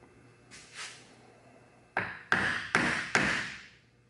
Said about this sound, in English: you can take a wood block and knock it down